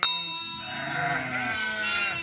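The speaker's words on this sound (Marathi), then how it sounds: "शेळ्या आल्या वाटतं. आज आपल्या वावरामध्ये शेळ्या बसणार आहे." Goats on a farm field give a loud, drawn-out bleat that wavers near the listener, with a faint metallic clang at the start and more animal calls toward the end.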